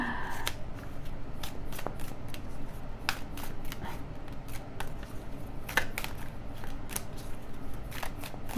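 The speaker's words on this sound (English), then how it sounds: "I'm going to pull one more card." Tarot cards being shuffled by hand, a rapid series of crisp riffling snaps and flicks repeating through the clip at close range, with faint talking now and then.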